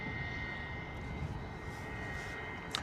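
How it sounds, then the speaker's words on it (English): Private jet approaching, a steady airy engine roar with a thin high whine holding throughout, moderately loud with a brief sharper transient near the end. "Sounds like another private jet coming at us as well."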